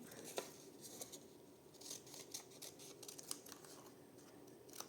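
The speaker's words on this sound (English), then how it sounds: "I'm just going to cut some strips." Scissors snipping strips from window-envelope paper, a quiet series of crisp irregular cuts and paper rustles close to the microphone, with no voices over them.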